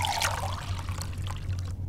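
Water poured into a container in Fahrenheit Indigo Prophecy, a short close trickling pour over a low steady hum, lasting under two seconds.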